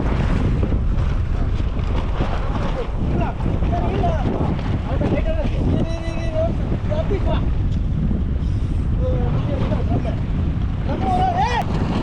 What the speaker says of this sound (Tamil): இப்போ பார்த்தீங்கன்னா காத்தோட வேகம் வந்து ரொம்பவே அதிகமாக இருக்குது.